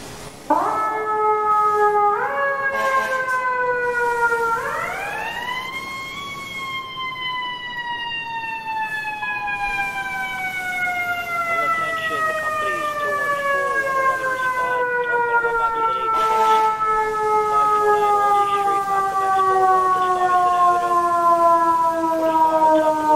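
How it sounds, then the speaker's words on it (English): A fire engine siren in the EmergeNYC video game, set in Brooklyn, winds up in stepped rising wails, then settles into a long, loud, slowly falling howl that dominates for the whole stretch. "Siren is so loud I can't even hear the dispatch talking"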